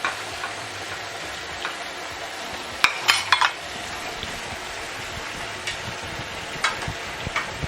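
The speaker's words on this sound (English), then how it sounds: "And I'm just going to mix that well." A light sizzle from a pan of frying chopped onions, cilantro and vegetables runs steadily, broken by a few scraping clinks of a utensil stirring the food.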